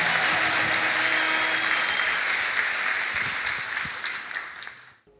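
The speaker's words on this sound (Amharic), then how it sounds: "እልልታ ጭብጨባ ለኢየሱስ ይሁን" A worship crowd applauds with ululation for Jesus, a dense and loud wash of clapping and trilling cries that gradually thins out and fades to near silence at the end.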